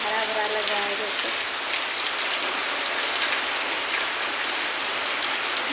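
Steady monsoon rain pours down in Varanasi in a continuous, dense hiss, with a brief tonal sound at the very start before the downpour dominates.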